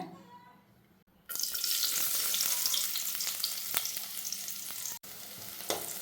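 Chopped shallots hit hot coconut oil in a pan after a quiet second, bursting into a loud, steady sizzle that stays close and bright, with faint clinks and stirring throughout.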